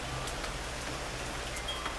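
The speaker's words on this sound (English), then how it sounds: "I just want to capture this rain here, California. This is actually rain." Steady, soaking rain falls in California, a dense even hiss with occasional faint drop ticks, heard alone at moderate distance.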